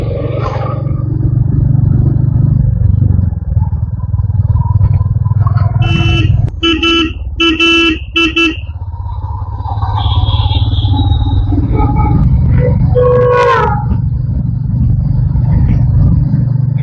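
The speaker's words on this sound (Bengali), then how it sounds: "এত জোরে হর্ন, কি গাড়ি ছিল ভাই?" Loud, sustained vehicle horn blasts ring out in a few bursts over constant rumble of jammed road traffic, heard from a motorcycle, close by and very prominent.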